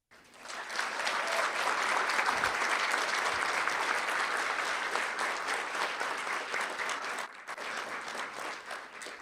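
A school board meeting audience applauds students who performed a life-saving response, dense sustained clapping that starts abruptly, stays full for several seconds, then thins slightly toward the end.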